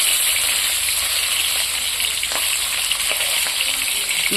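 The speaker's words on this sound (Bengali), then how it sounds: "মাথা লেজা ভাজা হচ্ছে" Rohu fish head and tail pieces fry in hot oil with a constant loud hiss and sizzle, dotted with faint pops and crackles, and no talking.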